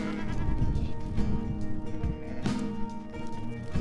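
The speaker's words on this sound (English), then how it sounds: "We are inside a kraal with some sheep and some goats." Sheep and goats bleat inside a kraal in the Springbokvlakte, several overlapping wavering calls close by over a continuous background of shuffling and animal noise.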